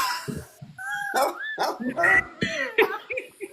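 A dog barking and yipping close by in short, uneven bursts, mixed in with people chatting.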